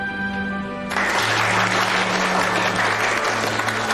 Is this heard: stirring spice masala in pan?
no